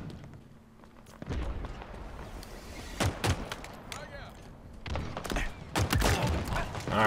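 Pistol gunfire in Halo Infinite, several sharp separate shots in quick bursts scattered across the stretch, amid other game noise with a player talking throughout.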